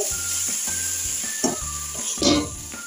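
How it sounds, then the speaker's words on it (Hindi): Potato and capsicum sabzi fries in a pan on a slow flame, a constant sizzle with a few brief stirring scrapes and clinks of a utensil, close and clear with no talk. "एक से दो मिनट तक हम ऐसे ही सब्जी को स्लो फ्लेम पे भून लेंगे"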